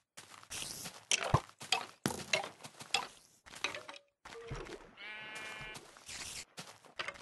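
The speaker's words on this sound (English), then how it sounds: "The sheep. Its entire purpose in life is to give wool." Sheep in the Minecraft video game bleating repeatedly, loud and close, a string of short baa calls with soft footstep-like clicks between them and no talking.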